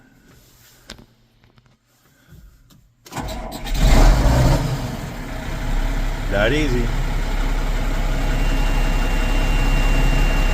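A faulty old diesel engine with a bad exhaust temperature sensor cranks and fires after a quiet stretch, then settles into a loud, steady idle; someone talks briefly before and over it.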